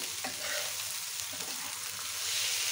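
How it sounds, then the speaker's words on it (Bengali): Kofi bhaji fries uncovered in an open pan, with a close, steady sizzle and light stirring scrapes throughout. "ঢাকনা ছাড়াই ভেজে নেব। বন্ধুরা, আবার একটু নেড়ে নেব।"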